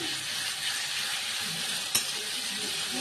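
Ground spice paste goes into a pumpkin curry frying in a pan, giving a steady, bright sizzle throughout with one short sharp clatter midway.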